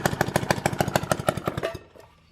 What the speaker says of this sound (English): You gotta hold the throttle open while you pull start the darn motor,